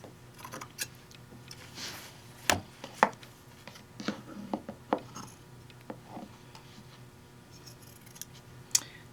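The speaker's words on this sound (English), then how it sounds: "So now I have, I'm going to trim around the neck as I suggested." Scissors snip around the collar of a t-shirt in a quiet room, a run of short sharp cutting clicks, some louder and clustered in the middle, with no one speaking.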